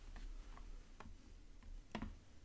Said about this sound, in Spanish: Le damos doble clic aquí a default.